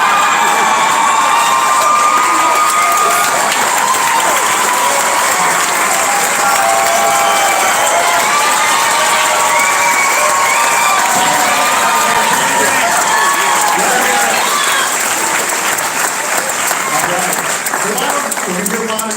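Audience at a cancer benefit gala applauds and cheers loudly and continuously, with whoops and shouting voices over dense clapping that holds steady throughout.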